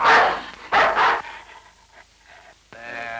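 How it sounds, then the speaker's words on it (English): A dog, apparently one that has been shot in the back, gives two loud close barks, then whimpers and pants more softly, ending with a faint whine. "There, that's a good dog."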